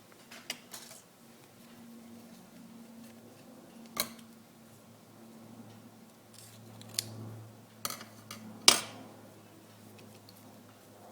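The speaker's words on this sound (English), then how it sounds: "Now take the floral tape, cut a small piece from it." Scissors snip floral tape for a paper delphinium flower, giving a few sharp, separate clicks and cuts close by in a quiet room, with no talking.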